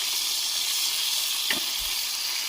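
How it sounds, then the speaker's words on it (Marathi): Chicken liver frying on a hot griddle outdoors in a forest, giving a steady, dense sizzle that holds level throughout with a brief soft clink partway through and no talking. "कलेजी टाकली ना तव्यावर"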